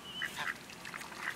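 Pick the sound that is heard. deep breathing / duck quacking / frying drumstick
duck quacking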